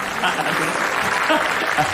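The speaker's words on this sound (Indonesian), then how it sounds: "Tepuk tangan luar biasa." Studio audience at an Indonesian live comedy talk show breaks into applause, a dense steady clatter of clapping hands filling the whole moment with a few swells.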